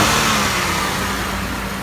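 A Toyota Mark X with a 2500cc V6 engine runs close by, giving a loud, steady, full-bodied engine roar throughout the short stretch.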